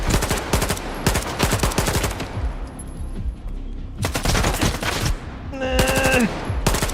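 Game gunfire in Stalker 2: rapid automatic bursts of sharp shots come in several separate volleys with short pauses between, loud and close, with faint game sounds in the gaps.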